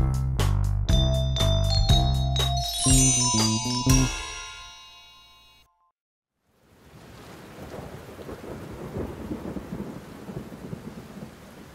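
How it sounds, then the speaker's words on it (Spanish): After a brief pause, steady rain hisses with low rumbling thunder rolling underneath, following a stretch of bright tinkling music. "Lluvia, lluvia, vete ya"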